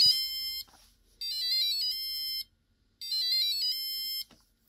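An Arduino passive buzzer from an Elegoo starter kit plays fast, warbling bursts of high-pitched beeps, about a second long each, with short silences between them. The sound is close and moderately loud.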